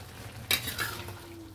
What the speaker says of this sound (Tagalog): Haluin lang natin muna.